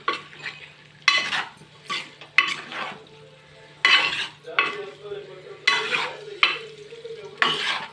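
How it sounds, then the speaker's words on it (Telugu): Cauliflower pieces are stirred into frying masala in a pan, and bursts of scraping and sizzling come in uneven strokes with short pauses between them, close and fairly loud. "వేసేసి మొత్తం తిప్పేసేసి మొత్తం నీట్గా కలిసేటట్టు కలిపేస్తాను"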